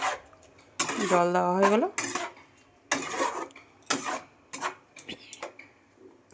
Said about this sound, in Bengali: এবার আমি ঢেকে দেবো কড়াইটাকে